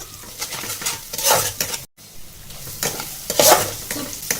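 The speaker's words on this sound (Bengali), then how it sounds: "পেঁয়াজটা লাল লাল করে ভাজা হয়ে গেছে এবার ওর মধ্যে আমি হাফ চামচ মতো আদা রসুনের পেস্ট দেব" Ginger-garlic paste frying with browned onions in a pan for a hog plum (amra) korma, a steady close sizzle broken by scraping stirs of a spoon against the pot, with a brief drop to silence partway through.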